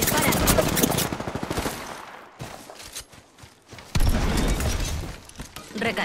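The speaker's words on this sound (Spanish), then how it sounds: "Estoy recibiendo disparos" Rapid gunfire bursts from the video game Apex Legends, dense volleys crackling loudly through the first two seconds, then scattered shots and a renewed heavy burst near the end, with speech mixed in.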